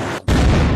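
A rocket launcher fires and its rocket explodes in the video game Unturned: a brief silent gap, then a sudden loud booming blast that holds strong for the rest of the moment.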